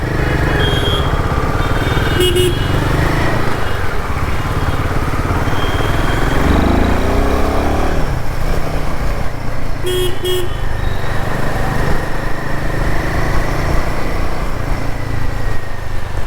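Dense Mumbai street traffic near Matunga in the rain, engines of cars and motorcycles droning steadily while horns toot repeatedly in short bursts, loud and close throughout.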